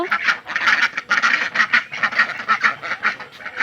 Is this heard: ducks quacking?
yes